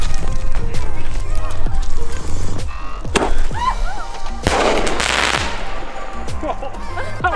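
Fireworks set off at a free campsite in the Kimberley near Kununurra, a series of sharp pops and crackling bursts over outdoor noise, close by, with people talking and calling out between blasts.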